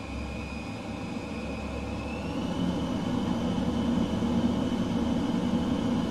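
A DC Designs F-15E jet flies over RAF Holbeach bomb range in Microsoft Flight Simulator 2020, its engine a steady, loud roar with a thin whine that gradually swells, no voices.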